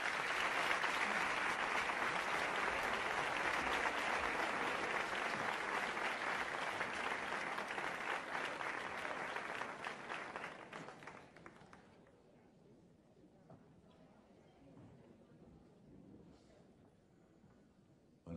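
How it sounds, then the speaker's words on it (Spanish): Loud, dense applause from a large audience welcoming a comedian on stage, sustained for about ten seconds before fading into quiet room noise. "Vamos a recibir con un fuerte aplauso"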